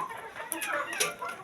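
A hen clucks in a few soft, brief calls, faint and close, over a light background.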